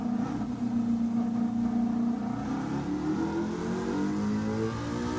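Supercharged race car in Gran Turismo 7 revving hard, a loud sustained engine drone with rising and falling harmonics, continuous and alone throughout.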